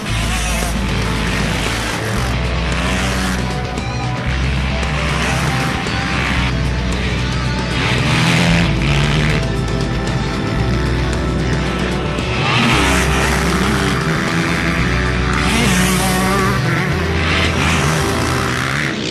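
Motocross motorcycles ridden by senior riders: a loud, continuous engine roar that rises and falls as throttles open and close, with rough, buzzing surges and no clear voices above the noise.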